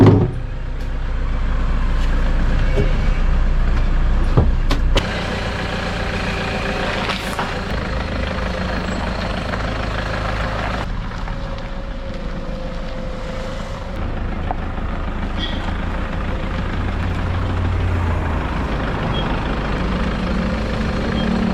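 A vehicle's engine idles close by in a garage as it is moved out. It makes a continuous low rumble with a few brief knocks and clatters along the way.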